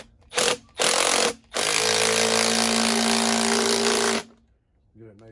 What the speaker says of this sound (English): Nut driver to attach.